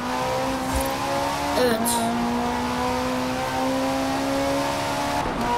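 A car engine in a driving video game drones steadily and loudly, its pitch dipping and climbing again around a gear change, with one short spoken word partway through.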